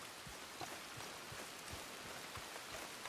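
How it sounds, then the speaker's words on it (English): Steady rain falls outdoors over open fields, a dense continuous patter with scattered louder drops striking nearby surfaces, and no one speaking. "And now it's raining."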